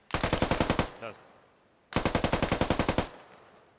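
Two long bursts of rapid automatic rifle fire in a Squad-style Gorodok skirmish match, each a dozen-plus evenly spaced loud shots, separated by a short pause.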